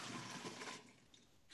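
Grape juice for homemade wine poured into buckets, a steady rushing splash that tapers off after about a second.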